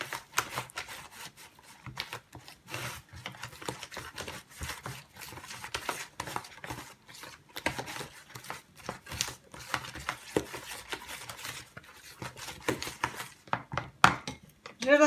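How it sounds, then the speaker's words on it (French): Whisking cake batter for a vanilla cake after egg yolks are added, a steady rapid clatter of a whisk against a bowl continuing throughout, close and fairly loud, with a few louder knocks near the end. "Je mélange."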